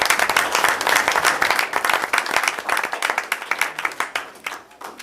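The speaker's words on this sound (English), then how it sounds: "We have a round of applause for those folks." A small group at a borough council meeting claps in steady applause that is loud at first and then gradually thins out and fades.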